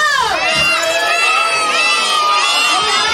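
A crowd of adults and children shouts together in one loud burst at a birthday party, voices rising into excited cheering that stays near and busy throughout.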